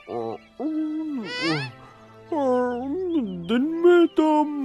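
An animated owl's voice hoots and calls in long, wavering tonal notes, near and loud, repeated several times with brief pauses between.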